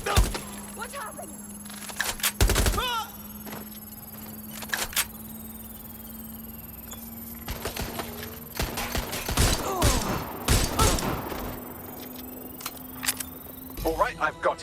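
Gunfire from enemy targets in Watch Dogs: Legion, heard as loud sharp cracks in several bursts, some rapid volleys, over a steady game hum with a voice speaking briefly.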